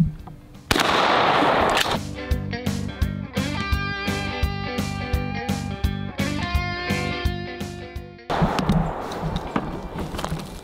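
A shotgun fires a regular 7.5 birdshot shell at a milk jug outdoors, one loud sharp blast followed by a long stretch of ringing, rhythmic metallic tones before the noise drops back.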